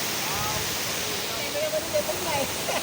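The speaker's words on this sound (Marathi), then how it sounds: "परशुराम गावातील हा चवथडा धबधबा" Steady rushing water from the Chavthada waterfall in Parshuram village, Konkan, where people bathe, fills the background, with a voice speaking briefly over the constant roar.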